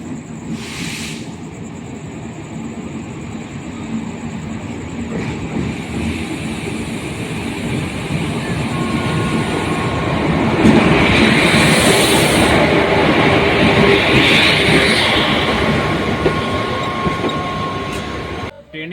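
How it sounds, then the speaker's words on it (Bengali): A Bankura-to-Howrah express train rumbles steadily alongside platform two, with a constant low mechanical drone, faint metallic hiss and squeal, and murmuring people in the background. "আমাদের ট্রেন চলে এসছে দু নম্বর প্ল্যাটফর্মে"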